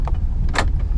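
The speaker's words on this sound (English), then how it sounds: "Central locking." The central locking on a 2017 Mitsubishi Outlander 2.4 4WD clunks once inside the cabin, a short, close mechanical thunk over a low engine idle.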